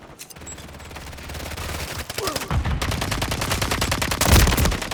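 Rapid automatic gunfire in a Call of Duty match, starting with a few scattered shots and building into loud, sustained close-range bursts with a voice faintly underneath.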